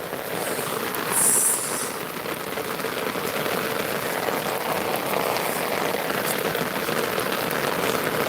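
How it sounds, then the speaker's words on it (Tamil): Rain falls steadily in Tirunelveli in a constant even hiss of drops on surfaces, with a brief high whine near the start. "மழை உழுற சத்தம்"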